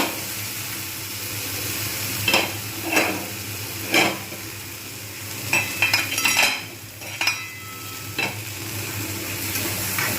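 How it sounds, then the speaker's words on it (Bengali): Dal and vegetables fried in a pan for Bengali khichuri, stirred in a steady soft sizzle punctuated by several sharper scrapes and clinks of a spoon against the pan, close and alone with no talk. "যতক্ষণ পর্যন্ত না এটা ভালোভাবে ভাজা হচ্ছে এবং সুন্দর একটা স্মেল আসছে ততক্ষণ পর্যন্ত কিন্তু আমি এগুলো ভাজতে থাকবো"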